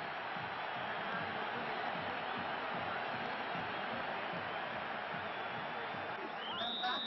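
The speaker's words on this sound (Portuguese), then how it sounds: "A torcida comemorou." Stadium crowd roaring in celebration of a São Paulo goal against Vasco at a 1992 Brazilian championship match, a steady dense wall of cheering that holds at full strength throughout.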